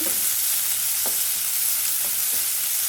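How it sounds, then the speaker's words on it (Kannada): Onions sizzling in hot oil in a pan on a gas stove, a steady close-up frying hiss broken by a few soft stirring scrapes. "ಗ್ಯಾಸ್ ಮೇಲೆ ಬಾಣಲಿ ಇಟ್ಟು ಎಣ್ಣೆ ಹಾಕಿ, ಎಣ್ಣೆ ಕಾದ ನಂತರ ಈರುಳ್ಳಿ ಹಾಕಿ"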